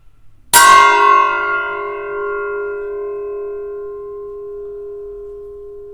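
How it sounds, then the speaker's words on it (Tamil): Antique hanging bell made of fine bronze, struck once and ringing loud and clear, its tone decaying slowly over several seconds and still sustaining at the end. "அந்த சவுண்டு ரிங் போயிட்டே இருக்கும், அடங்கிறதுக்கு ரொம்ப நேரம் ஆகும். இது ஒரு ஹேங்கிங் பெல்."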